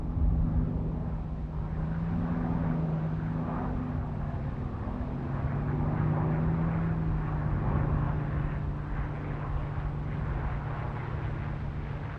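A Grumman F4F Wildcat fighter plane drones steadily overhead, its engine holding a low, even hum with slight swells for the whole stretch, loud and continuous with no voices.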